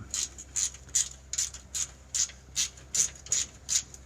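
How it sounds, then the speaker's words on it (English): A ratchet wrench clicks in about ten evenly spaced bursts as it backs out a 10mm bolt on a brake line bracket of a 2015 Ford F150. The sound is close and crisp, with no voices. "there's a 10mm bolt holding the brake line bracket. I'm just gonna unbolt that."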